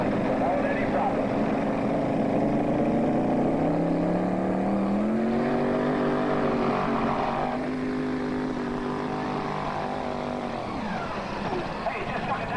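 A twin-turbocharged modified tractor-pulling engine of more than 1,500 horsepower roars steadily and loudly, its pitch climbing, holding, then dropping, at a 1987 tractor pull in Lucknow, Ontario.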